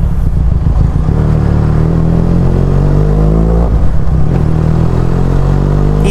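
A motorcycle engine revs loudly and close, the throttle opened gradually so the engine note rises and falls smoothly through several swells.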